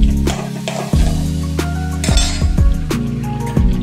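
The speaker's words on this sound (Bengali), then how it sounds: "একটু নাড়াচাড়া করে নেব" A utensil stirs food in a pan after turmeric and sugar go in, producing repeated metallic clinks and scrapes against the pan over a low background hum.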